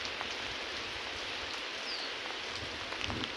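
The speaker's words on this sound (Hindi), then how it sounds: "अभी यहाँ बारिश हो रही है क्योंकि अभी ठंड भी ज़्यादा बढ़ गई है" Rain falls steadily in cold, snowy mountain forest, giving a soft, even hiss of drops on surfaces throughout, with no voices.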